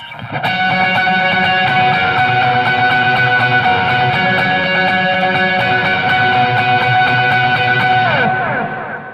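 A heavily distorted electric guitar plays a sustained lead line with fast repeated picking, loud and continuous, ending in a brief descending slide.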